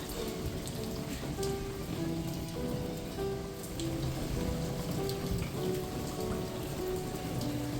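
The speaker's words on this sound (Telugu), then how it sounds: "ఈ వర్షాలు ఏంటో అర్థం అవ్వట్లేదు" Steady rain falls in Bangalore, a dense even patter of drops on surfaces that continues without a break; no voices.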